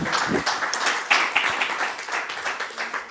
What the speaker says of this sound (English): Big applause for him, please.